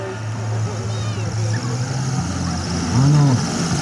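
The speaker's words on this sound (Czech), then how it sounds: "Letoun je poháněn tlačnou vrtulí." A motorized hang glider driven by a pusher propeller, with the engine mounted behind the pilot, flies at an airshow over a water airfield. Its steady, droning engine hum runs throughout, beneath a public-address announcer talking.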